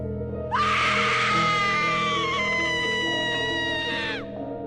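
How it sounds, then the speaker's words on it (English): A sudden, horrid, shrill scream erupts after a quiet half-second, holding loud and sustained for about three and a half seconds before cutting off, set against a low droning background in a horror-story sound effect. "waking up to a sudden and horrid screaming coming from upstairs"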